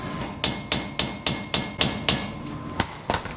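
Repeated heavy hammer blows ring out on a truck suspension part during a 6.7 Powerstroke swap, about nine close, loud metallic strikes in a steady rhythm, slowing near the end.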